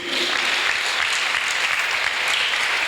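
A church congregation applauds, producing dense, loud, continuous clapping that fills the space evenly without a break.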